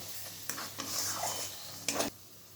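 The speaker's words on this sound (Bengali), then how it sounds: "এরপর আমি আবার ভালোভাবে নাড়াচাড়া করে নিচ্ছি।" A spoon stirs ground spices into mutton curry in a pan, making a few close scraping strokes in short bursts over a quiet background hiss, with no voices.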